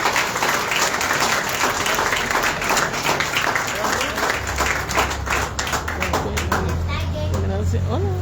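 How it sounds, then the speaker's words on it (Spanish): Mourners at a funeral procession clap in a loud, close, continuous round, mixed with children's voices and crowd chatter, with a low rumbling hum underneath toward the end. "Un aplauso para Maquito."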